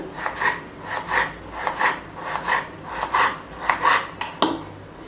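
A knife cuts a peeled potato into large pieces on a board, making a close series of about eight rhythmic rasping strokes with a final sharper tap.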